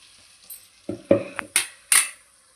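Tomato puree cooking in a pan while being stirred: a handful of sharp, close spoon knocks and scrapes against the metal in an uneven rhythm, over a faint low sizzle.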